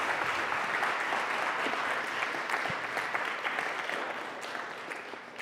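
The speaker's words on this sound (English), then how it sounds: "Can we just please give another round of applause" A lecture audience gives a sustained round of applause after a Q&A session, a dense, even wash of clapping that holds steady and fades slightly toward the end.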